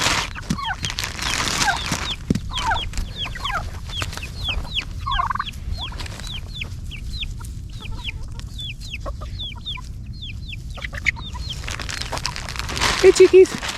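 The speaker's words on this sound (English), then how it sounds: "Hey, turkeys." Poultry on a farm give a long run of repeated short clucks and calls, fairly near and steady, with a brief louder burst of calls near the end and faint background noise throughout.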